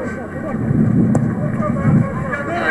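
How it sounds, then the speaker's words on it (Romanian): Strong wind roars across a football stadium during a match broadcast, a steady buffeting rumble heard under a commentator's continuous talk. "Iată vântul destul de puternic."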